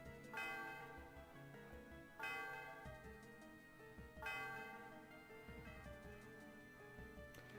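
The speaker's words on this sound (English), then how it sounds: "So I can go walk up to the bell, and I can hit the A button, and we can ring the bell." The Celestial Tower bell in Pokémon White rings three times at an even pace, each loud, clear strike followed by a long shimmering decay that overlaps the next, with soft music underneath.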